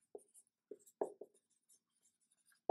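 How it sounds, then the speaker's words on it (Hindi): Marker or chalk strokes on a classroom board during a chemistry lesson, a series of short scratchy bursts spaced irregularly, close and fairly quiet, with no talking over them. "तो यहां पे मैं लिख देता हूं"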